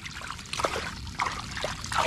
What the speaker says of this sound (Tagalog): Malakas pa rin po ang sumasabong na tubig ay